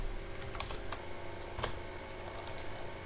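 Quiet typing on a computer keyboard, a few light scattered key taps over a steady low background hum.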